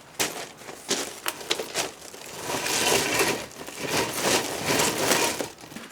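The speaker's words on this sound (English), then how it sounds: "Sanding this guy down." Sanding a reclaimed lumber board for a shelf, a close, steady abrasive rasping with uneven surges and short scrubbing bursts, no talking.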